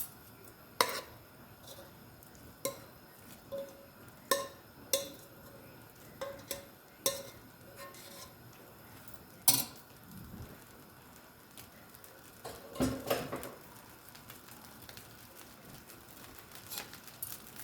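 Shrimp being stirred into Guyanese-style fried rice in a pan, heard as scattered light scrapes and soft clinks of a utensil against the pan over a low sizzle, with a louder scraping burst near the end.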